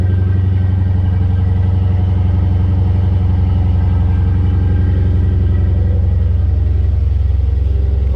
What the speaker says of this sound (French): Le démarrage à froid qui est toujours un grand moment sur ces caisses, parce que ça sonne vraiment bien